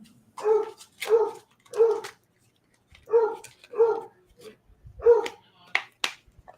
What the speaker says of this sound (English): dog's a jerk.